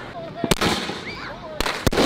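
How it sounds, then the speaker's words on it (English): Fourth of July fireworks in Houston, Texas: a few sharp, loud bursts spaced apart, with crackle and whistling in between, over crowd noise outdoors. "It's fireworks back to back."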